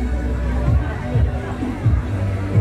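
Crowd chatter at a busy women's market in Bali, a steady close hubbub of many voices murmuring and overlapping throughout.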